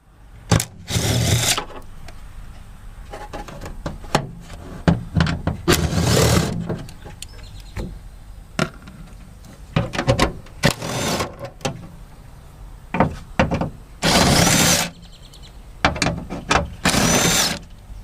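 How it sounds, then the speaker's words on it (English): Bursts of a cordless power tool spin bolts off the tail light panel of a 2018-2022 Honda Accord, loud whirring runs repeating in short clusters with quiet handling pauses between. "So all of these bolts right here are gonna have to come off."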